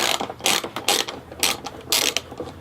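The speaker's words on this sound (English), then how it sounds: "So just remove the 4 stock bolts." A hand ratchet clicks in quick bursts while loosening the stock windshield bolts on a Harley-Davidson Road Glide, with four or five close, crisp runs of pawl clicking separated by short pauses.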